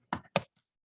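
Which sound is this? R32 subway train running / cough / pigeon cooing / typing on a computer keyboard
typing on a computer keyboard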